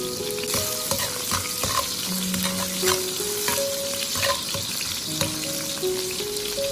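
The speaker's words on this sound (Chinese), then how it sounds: "油热之后下入葱姜，再快速的翻炒，炒出它们的香味。" Scallion and ginger stir-fried quickly in hot oil in a wok, a close, steady sizzle broken by repeated scrapes and clatters of the spatula over a light tonal tune in the background, with no speech.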